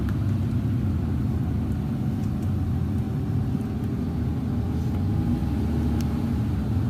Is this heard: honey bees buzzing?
no